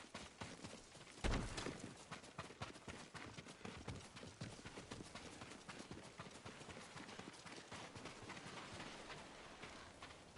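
Steady clip-clop of horse hooves at a trotting rhythm in the video game Ghost of Tsushima, fairly close, continuing throughout with a sharper thump early on.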